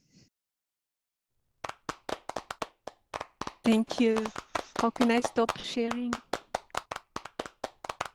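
During an online conference session, a few people clap in sharp, distinct, closely spaced claps that begin after a silence, while a speaker talks over the middle of the clapping.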